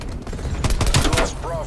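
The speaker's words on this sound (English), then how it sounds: "maybe you want to do something like this with a semi-automatic assault rifle" Rapid semi-automatic assault rifle fire in a console shooter game, a quick burst of several sharp shots in close succession, loud and near, over game ambience and a brief radio-style voice.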